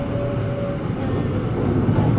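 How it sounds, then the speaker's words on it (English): A train pulls out of Kyoto Station with a continuous rumble of rolling stock and wheel noise inside the car, a faint tonal whine riding over it, steady and close with no talking. "So now we're departing Kyoto Station, the biggest train station in the world."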